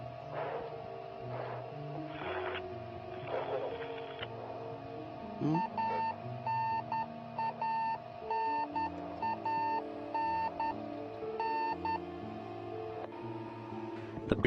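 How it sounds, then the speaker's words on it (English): The radio beacon aboard a Soyuz spacecraft returning crew from the space station beeps repeatedly in regular, evenly spaced tones. The beeps sit over a steady electronic hum and a background of cabin noise. "The beeping sound you hear is a radio beacon on the Soyuz spacecraft"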